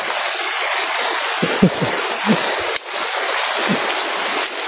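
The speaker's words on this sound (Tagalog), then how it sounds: "sobrang lakas ng ulan" Heavy rain pours outdoors as a loud, continuous broadband hiss, steady throughout, with a few low thumps and knocks underneath and no clear speech.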